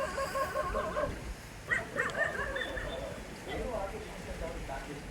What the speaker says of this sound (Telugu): అవి చూడండి, కుక్కలు చూడండి